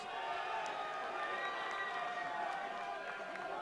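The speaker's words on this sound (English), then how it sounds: "let's just give a nice round of applause for this young man" Steady crowd noise at a fight league event honoring a 19-year-old fighter, a dense continuous wash of applause and cheering from a large audience, moderately distant and unbroken throughout.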